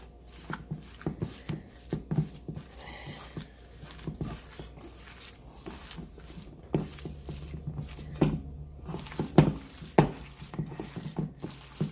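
A meatball mixture of ground meat is mixed by hand in a bowl, giving close, irregular squishing and patting sounds with soft knocks, no talking.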